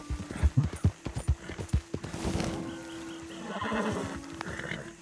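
In the video game Red Dead Redemption 2, a horse's hooves clop in a quick, regular rhythm up close, then the horse lets out a long whinny as the stepping fades, with no talking.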